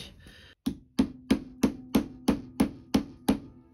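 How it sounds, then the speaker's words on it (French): Ten or so sharp hammer blows strike at a steady, even rhythm while working on a sewing project, each loud and close with a brief ringing decay, after a short quiet stretch at the start. "Je pense utiliser des coups de marteau"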